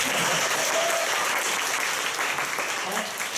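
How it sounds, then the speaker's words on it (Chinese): An audience at a campus talk breaks into sustained applause, dense and fairly loud, the clapping rolling on evenly before easing slightly at the end. "我讲到这里是不是应该鼓掌？"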